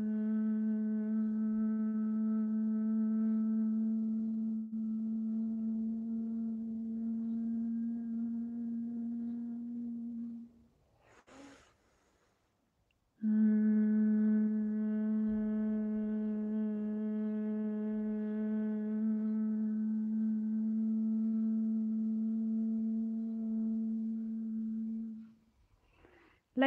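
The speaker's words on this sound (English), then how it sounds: "Inhale and exhale the humming sound." Bhramari Pranayama yoga breathing gives a steady, low nasal hum on a long exhale of about ten seconds, then a brief inhale, then a second equally long hum, close and even.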